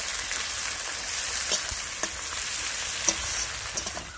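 Chopped onions sizzle and crackle steadily in a pan for chicken bhuna khichuri, a continuous close frying hiss with occasional sharper pops.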